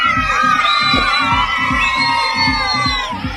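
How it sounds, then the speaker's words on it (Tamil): School students cheer and shout as someone climbs onto a stage, a loud continuous crowd roar with high whoops and rising and falling shrieks running across the whole stretch. "மேடையில ஏறும்போது மாணவ மாணவிகள் ஆரவாரம் பண்ணியிருக்காங்க"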